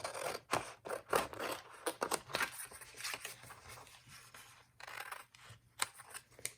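Scissors snip through patterned paper for a handmade card, giving a close series of quick, crisp cuts in uneven bursts with short pauses between them.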